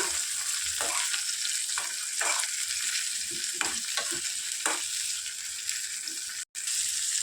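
Chopped tomatoes frying with onions in a pan for a peanut chutney, giving a steady loud sizzle with intermittent scraping stirs throughout and a brief break near the end.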